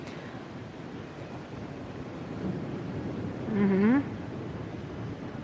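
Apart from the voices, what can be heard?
wind blowing during a live stream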